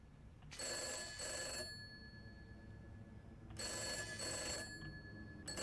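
A telephone in a haunted cabin video game rings twice, each ring a bright double trill about a second long separated by a pause, moderately loud over low ambient rumble with no talking.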